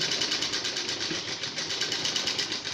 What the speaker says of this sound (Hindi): यहाँ पर सिलाई लगाएंगे ऐसे इस तरह से